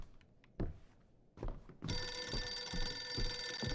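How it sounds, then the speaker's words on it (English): Telephone ringing in the horror game Visage, a loud old-style bell ring that starts abruptly and keeps trilling after a few soft knocks and thuds in a quiet room. "Why every horror game gotta start with the phone ringing?"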